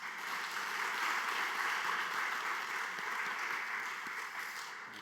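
A church congregation at Bucheon Jisan Church's 50th-anniversary revival meeting applauds in thanks to the pastor, a steady, dense wash of clapping lasting several seconds and easing slightly toward the end.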